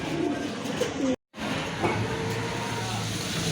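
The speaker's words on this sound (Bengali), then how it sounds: "এখানে কিন্তু আরেক জোড়া কবুতর দেখতে পাচ্ছেন" Giribaz pigeons cooing at a pigeon seller's, soft repeated coos close by under a constant background hum, broken by a brief moment of silence.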